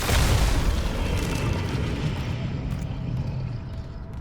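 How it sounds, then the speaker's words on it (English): A pulse cannon fires in Dead Space, a heavy booming blast that starts loud and rolls into a long, rumbling decay with a dense low-end wash and no talk over it. "The pulse cannon, because it feels like it takes very few bullets."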